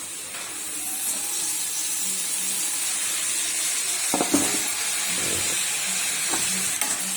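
Chopped tomatoes and green chillies sizzle in a pan with a steady hiss and frying crackle, broken by a few brief clatters of stirring near the end.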